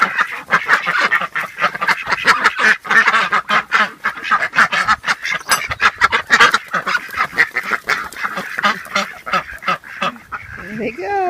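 Domestic ducks quack in rapid, overlapping bursts close by, a loud busy chorus of honking calls that continues almost without pause.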